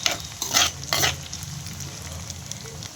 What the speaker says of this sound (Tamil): அடுத்து வத்தல் அதை போட்டு கொஞ்சம் நல்லா வதக்கணும்